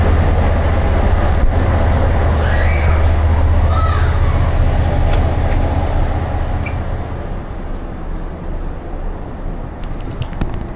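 A rusty 50-year-old Taiwanese express train rumbles steadily from inside the carriage, a loud continuous low roar with faint squeals, fading slightly toward the end.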